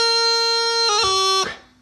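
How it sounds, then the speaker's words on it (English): Bagpipes hold a loud, bright, sustained high A, then a quick cut of high G drops to F before the tone stops, solo and close. "it's got a nice long high A, and you've got to cut this little high G coming down to the F"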